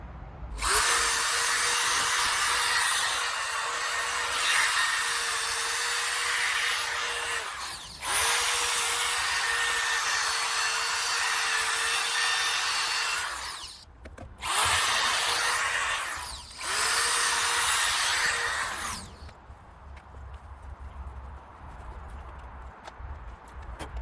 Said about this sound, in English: So now we're going to put this pad on and then sand on this process